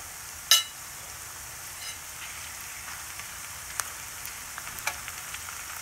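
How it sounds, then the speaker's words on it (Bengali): Whole spices tempered in oil with fried onions sizzle softly and steadily at close range, with one sharp clink early and a few faint pops scattered through. "পেঁয়াজটা ভাজা হয়ে গেছে। এখন আমি এর ভিতর ফোড়ন দেব।"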